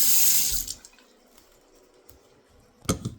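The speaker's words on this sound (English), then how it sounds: "Rinse cup. Fill cup with water to the desired level of" Tap water runs loud into a sink, rinsing a coffee cup before cutting off, then quiet drips and small splashes follow until a brief splash as the cup is filled with water near the end.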